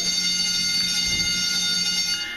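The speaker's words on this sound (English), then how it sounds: "there's the bell." A school bell rings continuously in a classroom, a steady electric clanging that stays loud and unbroken throughout, with no talk over it.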